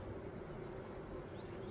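Honey bees buzz during a hive inspection as the frames are checked, a faint, steady hum close by with no voices.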